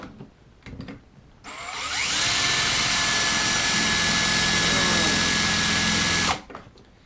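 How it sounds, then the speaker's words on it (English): An electric drill spins a dull bit against a workpiece, giving a loud, steady whine that runs for about five seconds and then stops abruptly, with no voices over it. "we'll just try to make a little drill on this to see how it's performing as of right now"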